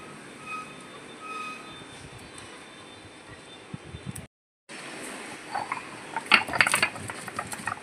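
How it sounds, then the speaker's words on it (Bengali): Cumin seeds, green chilies and dried chilies are ground together into a spice paste, giving a rough mechanical grinding with rattling, ratchet-like textures, a brief pause, then louder, harsher bursts of crushing toward the end. "গোটা জিরে, কাঁচা লঙ্কা, শুকনো লঙ্কা একসাথে মিশিয়ে বেটে নেব।"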